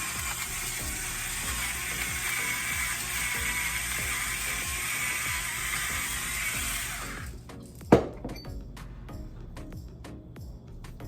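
A hand grinder cranks out salt and pepper over fish taco ingredients, a continuous gritty ratcheting grind lasting about seven seconds, then a sharp knock and a few faint clicks.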